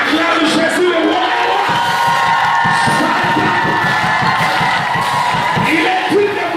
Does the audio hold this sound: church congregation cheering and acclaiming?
yes